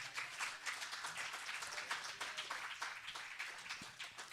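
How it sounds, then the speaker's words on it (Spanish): A church congregation claps during a Spanish-language sermon, giving a faint, fairly steady round of applause that carries on for several seconds with no voice over it. "Puede darle un aplauso al Señor."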